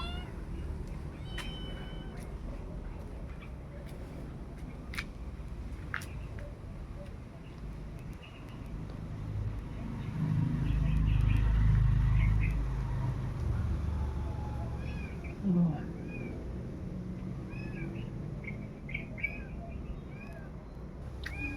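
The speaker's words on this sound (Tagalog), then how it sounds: "Ang daming alagang pusa." Several faint meows from pet cats scattered through a quiet countryside background, with a low rumble swelling midway and occasional birdsong.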